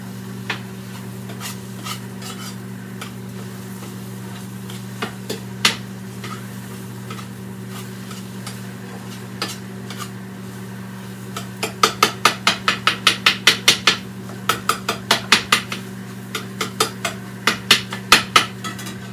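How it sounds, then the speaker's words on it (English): Spatula chopping soft scrambled eggs in a pan: a burst of quick, rhythmic metallic taps and scrapes starting partway through, over a steady low kitchen hum, with a few scattered clicks earlier. "Chop the scrambled eggs up a bit."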